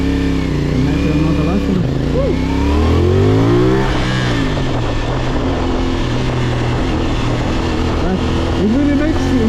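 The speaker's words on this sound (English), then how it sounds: "this is very interesting motorcycle" A CFMOTO 450SR motorcycle engine revs and climbs in pitch as it accelerates, loud and close, with a steady droning roar throughout.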